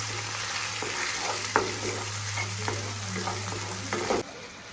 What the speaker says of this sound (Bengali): মশলাটাকে তেলের মধ্যে কিছুক্ষণ কষাবো